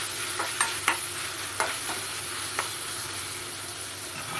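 Chicken and chopped tomatoes are stirred in a pan for gongura chicken curry, giving a steady frying sizzle broken by a few soft scraping strokes, close and moderately quiet.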